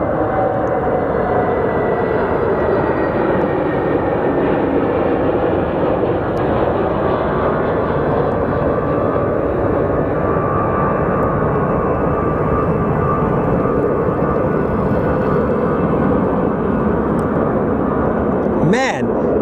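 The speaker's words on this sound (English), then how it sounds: "why is it that these tiny Airbuses are always the loudest planes?" A small Airbus airliner at Sky Harbor Airport gives off a loud, steady engine roar that holds evenly for the whole stretch, apparently nearby.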